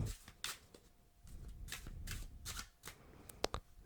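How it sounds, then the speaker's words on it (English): A deck of playing cards being shuffled up close in a quiet room, a series of crisp riffling bursts and flicks with a couple of sharp snaps near the end. "it's probably best to start by shuffling the deck"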